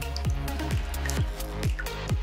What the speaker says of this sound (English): Drizzle the nail polish in random patterns.